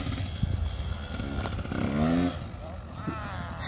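A 2013 KTM 150 SX two-stroke dirt bike held in second gear revs and buzzes briefly, rising then easing, under and between talk.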